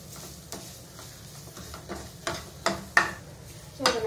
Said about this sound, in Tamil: ஸோ அதை நல்லா வதக்கிக்கோங்க.